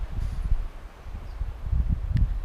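Strong wind gusts on a Continental Divide Trail mountain stretch between Lincoln and Benchmark rumble and buffet close to the microphone in uneven surges, with faint rustling.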